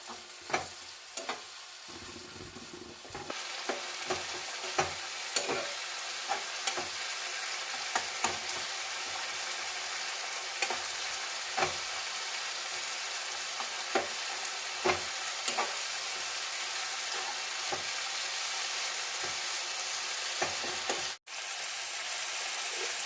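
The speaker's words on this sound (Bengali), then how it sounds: "নুন হলুদ দেওয়ার পর এটা ভালো করে মিশিয়ে নিচ্ছি এটা ভালো করে নাড়তে হবে" Tomato with salt and turmeric fries in a pan with a constant, fairly soft sizzle. A utensil stirs it, giving regular light scrapes and taps over the long steady hiss, with a brief cut-out near the end.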